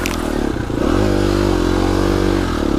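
A Husqvarna enduro motorcycle, an FE250 or TE250, revs hard while churning through thick mud on a muddy road, its engine note rising and holding steady with clattering and scraping close by.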